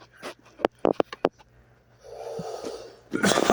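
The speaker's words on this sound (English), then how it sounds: "I coughed and I hurt myself." A man's sharp, painful cough bursts out loudly near the end, preceded by several short breathy gasps and a low rumble of strained breathing.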